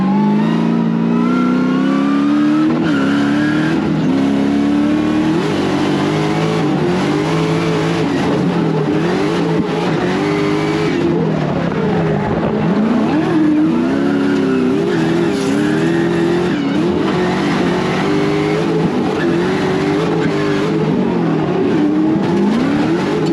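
A 700hp competition car's engine revs hard and loud throughout, pitch climbing and dropping through gear changes while driving, with occasional tyre squeal; no talking.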